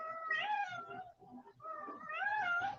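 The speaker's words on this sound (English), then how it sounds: "y'all hear my cat in the background" A pet cat gives two drawn-out meows in a row, the second rising and longer, close and fairly loud indoors.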